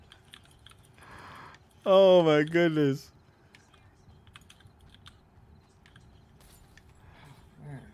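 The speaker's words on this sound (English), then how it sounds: "it's not your mouse, because I hear the mouse clicking really soft. Or you heard the actual keys" Computer keyboard keystrokes tap steadily and softly through a gaming session, briefly covered by a loud spoken exclamation before the typing continues in the background.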